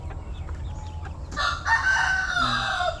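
Chicks and chickens cluck and crow at a backyard poultry pen, a burst of loud calls starting partway in and continuing close by, with no talking.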